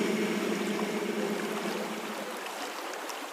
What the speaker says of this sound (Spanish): Ahora llegó el momento de escuchar la voz del río.